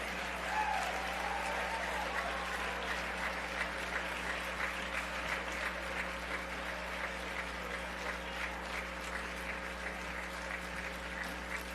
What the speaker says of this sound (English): Come on, guys, a round of applause for Mayor Johnson.